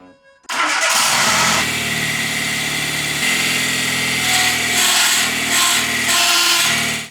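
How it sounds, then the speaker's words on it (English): A small car's engine, fitted in a tiny camper car, starts and runs with a clutch throwout bearing slipped under the clutch fork, giving a loud, steady mechanical running tone with a whirring, rattling edge throughout. "It appears the throwout bearing slipped under the clutch fork when trying to put the gearbox back on."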